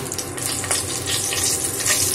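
Two dry red chillies frying in hot mustard oil for tempering, a steady crackling sizzle with bright spitting pops, close and continuous with no talk.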